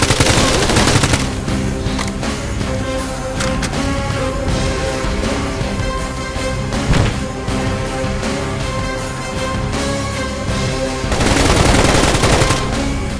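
Heavy gunfire and machine-gun bursts in the game S.T.A.L.K.E.R. GAMMA, loud and continuous with dense overlapping shots and rapid fusillades throughout, nearby and relentless.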